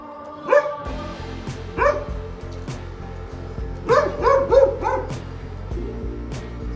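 A dog barks in short, separate bursts, close and loud, with a quick cluster of barks near the end over a low humming background.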